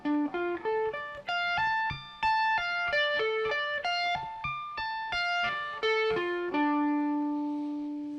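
An electric guitar plays a major scale slowly with fretboard tapping, a clear sequence of distinct sustained notes stepping up and down at an even pace, ending on a long held low note, with no talking.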